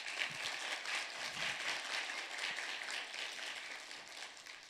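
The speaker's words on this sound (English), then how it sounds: "Let's give them all a hand of applause." An audience applauds a group of performers at a 2021 tea event. The clapping is soft, distant and continuous, tapering slightly as it goes.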